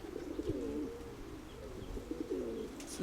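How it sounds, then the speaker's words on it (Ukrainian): A young pigeon, an aroused male, coos repeatedly in low, rolling phrases close by, with faint background noise and a brief rustle at the end. "Гурчить вже ярий такий голуб"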